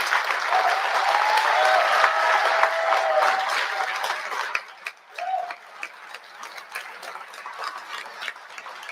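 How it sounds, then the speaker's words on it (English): A large banquet audience at the White House Correspondents' Dinner bursts into sustained, loud applause that holds for several seconds before thinning into scattered claps and dying away. "That they can applaud."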